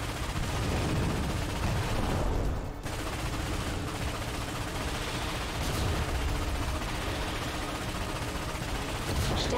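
Weapon fire in the video game Ratchet & Clank (2016): a dense, continuous rumble of blasts and explosive booms, loud and sustained with a brief dip partway through.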